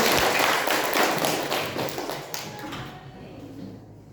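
Students in a junior high school classroom clap together in a loud burst of rapid applause that fades over a few seconds into a quiet room.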